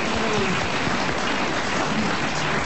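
Studio audience of a French radio comedy show applauding, a dense, even patter of clapping heard at close range that holds steady throughout.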